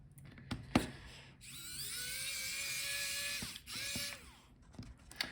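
A small electric screwdriver whirs in high-pitched bursts, unscrewing hinge screws on an Asus ROG Zephyrus M16 GU604VI laptop, with two sustained runs of rising whine separated by clicks and taps of metal parts, close and fairly quiet.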